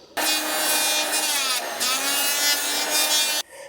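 A Bosch power planer skims an outdoor wooden patio surface with its depth knob set, giving a loud, steady, close rasping whine that holds for about three seconds and then stops abruptly.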